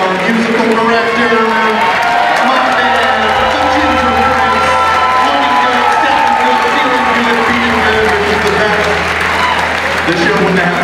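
An audience at a tribute concert applauds, cheers and whoops for the musical director, a loud, sustained crowd roar lasting about eleven seconds.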